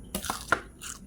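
Crunchy fried pork is bitten into up close, giving two or three short, sharp crackling crunches within about a second.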